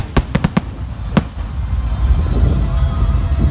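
A million-size Bang Fai rocket launches at the Tha Pho village rocket festival. A quick burst of sharp crackling pops comes first, then a deep roaring rumble builds and carries on. No one speaks.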